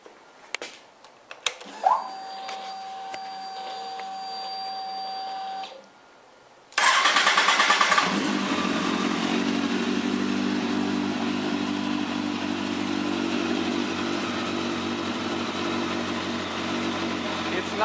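A 2005 Kawasaki ZX10 sport motorcycle fitted with a Power Commander cranks with a few clicks and a starter whir, then fires and settles into a steady, close, loud idle that runs on alone.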